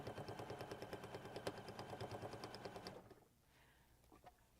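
A sewing machine stitches 100% cotton fabric in a fast, steady mechanical chatter for about three seconds, then stops, leaving quiet with a faint click or two.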